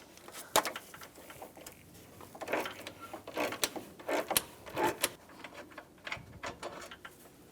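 A T25 socket turns out a screw on a 2009-2013 BMW 328i xDrive during AC condenser and receiver drier replacement, giving quiet irregular ratcheting clicks and metallic taps, close and without talk.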